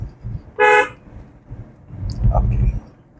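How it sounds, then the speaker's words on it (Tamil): A single short car horn honk sounds loud and close during a driving lesson, followed by traffic rumble and a voice speaking nearby. "ஹார்ன் அடிச்சிருங்க."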